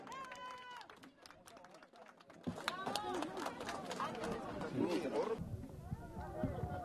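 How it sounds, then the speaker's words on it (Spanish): A crowd applauds at the inauguration of a new highway section in Lambayeque, Peru, a dense rattle of clapping swelling under a voice and crowd chatter, heard faintly from a distance. "Fuertes aplausos."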